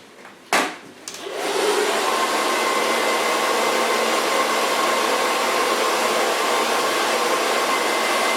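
A hair dryer blowing on hair clicks on after a brief bump, then runs as a loud, steady, close whoosh that holds without a break, with no voices.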